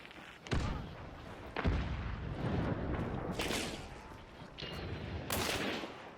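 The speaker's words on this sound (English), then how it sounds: "I'm just going to keep shooting until you guys, you know, look at me and fight back" Gunfire in the first-person shooter Hunt: Showdown, including a Derringer, rings out as several sharp, loud bangs spaced a second or more apart, each trailing into an echoing, rumbling tail over a steady ambient game background.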